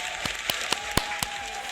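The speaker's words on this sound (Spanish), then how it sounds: "démosle un fuerte aplauso y muy bienvenido" Studio audience at a Chilean doctor's talk show giving a few distinct, widely spaced claps to welcome a guest, each sharp burst standing out over a low steady background.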